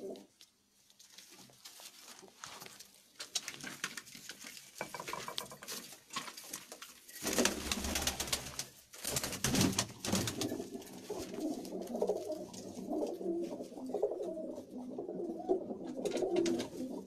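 Indian breeder pigeons cooing softly in a loft, low throaty coos repeating under light rustling and wing patter, fairly quiet with a busier, louder stretch midway.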